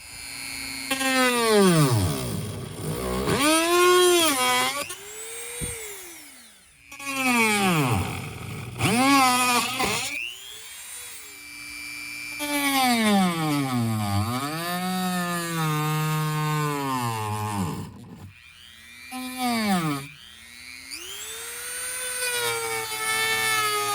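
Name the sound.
Dremel rotary tool cutting near strut bar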